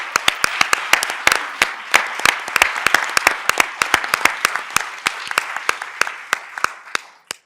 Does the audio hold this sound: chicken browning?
no